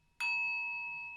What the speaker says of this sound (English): Allowing the sound of the singing bell to start to guide you deeper within